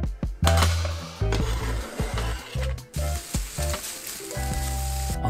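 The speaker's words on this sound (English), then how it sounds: "turn your wok or your cast iron fry pan on medium and begin cooking the bacon" Bacon fries in a wok or cast iron pan on medium heat, giving a loud, continuous sizzle broken by a few sharp clanks and spatters close by, with no voices.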